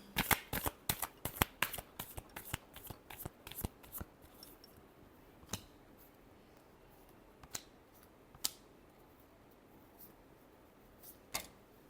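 Tarot cards are shuffled close up in a quick run of crisp riffling snaps that then thin out into a few scattered single flicks, quiet and with no talking.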